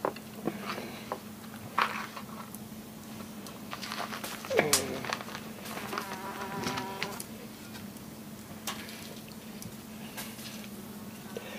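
A fly buzzes faintly and intermittently indoors, its thin drone coming and going over a low background hum, with occasional soft taps and a brief louder moment midway.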